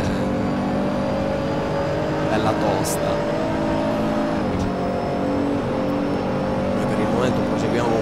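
Nissan GT-R NISMO GT3 race car engine in Assetto Corsa, played on a Logitech G27 wheel, drones steadily at high revs throughout, loud and continuous, with someone talking over it.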